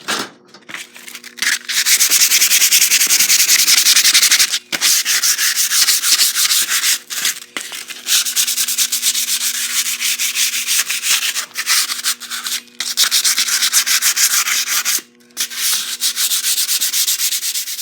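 Sandpaper is rubbed by hand in long, steady, loud scratching strokes over nearly the whole stretch, close up, broken by a few brief pauses and with no talking.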